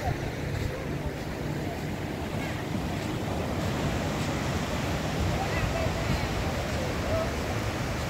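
Steady ocean surf rolling at Kovalam beach, a continuous loud wash of waves mixed with wind buffeting the microphone, no distinct breaks.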